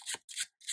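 A deck of tarot cards being riffle-shuffled, three quick crisp bursts of flapping card edges, close and fairly soft, with no talk.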